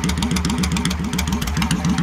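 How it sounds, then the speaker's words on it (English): A Ridley Auto Glide automatic motorcycle with chrome Road King wheels idles steadily up close, its engine giving a loud, even, throbbing rumble with no talking over it. "you can hear the motor just sitting there purring."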